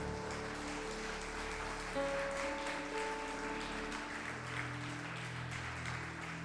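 A church congregation applauding, a soft continuous patter of many hands clapping at moderate distance, with sustained organ-like tones ringing underneath.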